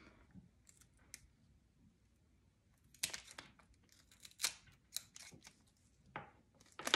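Stems snipped with scissors while arranging a flower centerpiece bouquet: a few sharp, scattered cuts and crinkly rustles of stems and foliage, quiet at first and then denser toward the end, with no talking.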